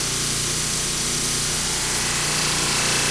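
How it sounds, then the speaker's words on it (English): Buffing wheel polishing a custom knife blade, a loud, continuous abrasive whir with a low rumbling drone, steady and close for the whole stretch. "But we just lay this in here and start buffing it off."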